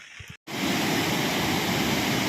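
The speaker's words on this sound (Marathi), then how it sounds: "बघा थोडा जोरात पडतोय ना वरून म्हणजे मध्ये गॅपच टाकत नाही डायरेक्ट पाणी ना आपटत ना डायरेक्ट खडकावरून" Swollen mountain waterfall crashing straight down onto rocks makes a loud, dense, continuous roar. It starts abruptly after a short break and stays close and unbroken, with no voices.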